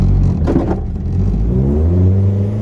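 Nissan 240 car driven outside to try a DIY hand brake extension, its engine revving loud and close with a rising pitch that settles into a steady drone, with tire and drivetrain whir underneath.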